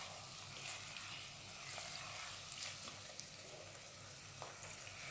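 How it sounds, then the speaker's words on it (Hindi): Chicken fries with onion in a pan for green coriander chicken, a constant soft sizzle and crackle with faint stirring scrapes, quiet and steady with no talking. "इसको प्याज के साथ थोड़ा सा भून लेंगे।"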